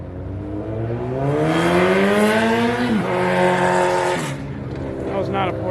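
At a Porsche club meet, a motorcycle passes close by, its engine pitch climbing loudly, peaking and then dropping away, with someone talking over it.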